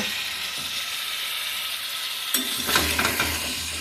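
Spices are stir-fried in a pan for fish curry, giving a soft, even sizzle that swells midway as stirring and scraping pick up.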